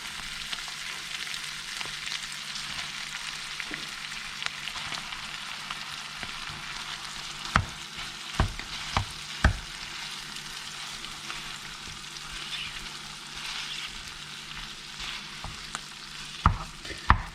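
Rice stir-fried with chicken in a pan for nasi goreng balado makes a soft continuous sizzle, broken by scattered scraping knocks of a spatula against the pan, quiet and close with no talking.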